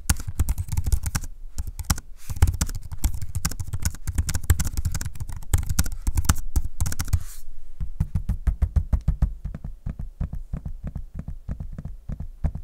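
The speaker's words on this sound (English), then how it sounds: "the keyboard is nice and quiet as you heard in the audio sample" Quick, soft typing on an Acer ConceptD 5 Pro laptop keyboard in a steady rapid patter, close up, turning to slower separate key clicks toward the end.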